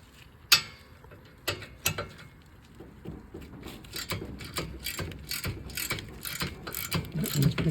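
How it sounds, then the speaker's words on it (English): Hand ratchet clicking as brake caliper bolts are loosened on the rear of a 2013–20 Ford Fusion during a brake pad and rotor replacement, a few sharp knocks followed by a steady, close run of fast ratcheting clicks. "Loosen the caliper bolts."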